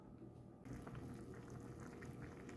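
Kimchi stew with pork belly boils in a pot, a steady dense bubbling and simmering that runs throughout, close and fairly quiet with no talk.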